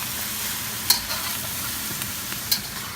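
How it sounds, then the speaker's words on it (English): Steady sizzling of broccoli stir-frying in oil, with occasional sharp scrapes and clicks of a utensil tossing it in the pan. "And you just stir fry the broccoli."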